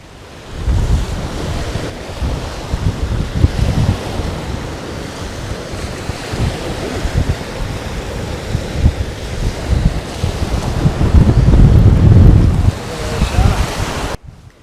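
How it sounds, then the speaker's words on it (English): Strong wind on the Ningaloo coast buffets the microphone with loud, continuous low rumbling gusts, while surf and water wash along a boat's side and swell in a heavy surge near the end. "it's a very windy day at the Ningaloo"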